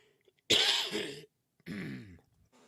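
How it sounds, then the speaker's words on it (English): Two harsh, raspy coughing bursts close to the mic, the first longer and louder, separated by a brief silence. "When I laugh, I end up coughing"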